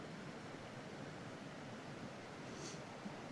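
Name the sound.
creek flowing outdoors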